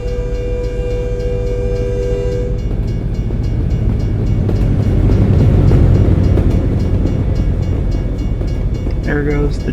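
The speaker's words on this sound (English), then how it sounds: "There goes the train." In American Truck Simulator, a train rolls by with a loud, dense rumble that swells toward the middle and then eases, joined near the end by a brief tonal sound.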